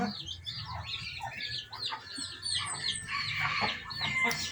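Native pet chickens cluck and squawk busily at feeding time, with scattered calls and some wing flapping close by, nearly continuous without speech.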